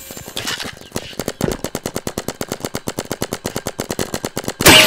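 A paintball gun in the Roblox game Big Paintball fires a long, rapid, even stream of loud shots, like automatic fire, ending in a louder burst.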